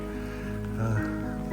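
Steady rain falls on a cold evening around 36 degrees outdoors, a continuous close hiss and patter with a low rumble beneath and no speech.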